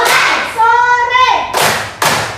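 Children in a classroom clap their hands three times in crisp, sharp bursts, with a short stretch of a voice between the first clap and the last two.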